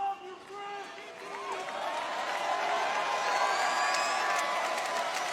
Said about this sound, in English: you're cheering right now